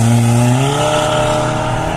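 A VW GTI engine revs hard, a loud, steady droning note that climbs slightly in pitch as the car accelerates, close and without talk.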